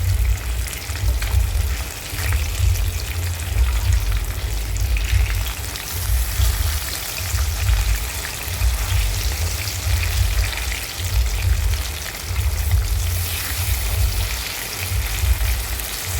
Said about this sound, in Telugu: ఇలా రెండు వైపులా ఎర్రగా వచ్చిన వరకు వేపుకోవాలండి